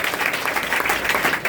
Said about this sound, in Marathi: टाळ्या करा.